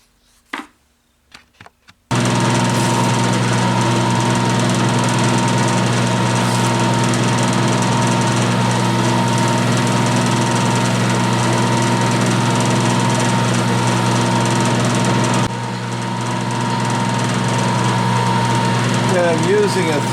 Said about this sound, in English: I'm using a 3/16 cutter to mill the 3/16 slot.